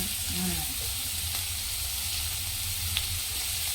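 Onions sauté in a pan for a tomato dish, a low continuous sizzle close by with a faint hiss, a brief voice near the start and a small utensil tap later.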